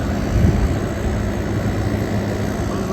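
Air conditioner compressor running hard in cool mode on a hot summer day, a loud, steady, close broadband hum and rumble with no speech over it.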